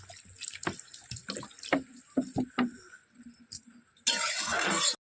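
Water poured from a tap onto fresh Bombay duck fish in a kitchen, a steady close hiss of running water in the last second after scattered clinks, drips and handling noises.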